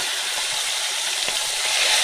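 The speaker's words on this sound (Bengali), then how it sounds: "মাছ ভাজা বসিয়ে দিয়েছি" Fish fries in hot oil, a close, constant sizzle with faint crackles and no talking.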